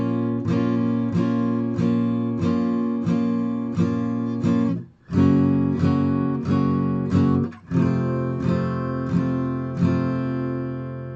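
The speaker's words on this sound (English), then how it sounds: "The full chords would sound something like this." A guitar plays a song with full chords, strummed in a steady, fuller-sounding rhythm with two brief breaks, close and loud with no voices.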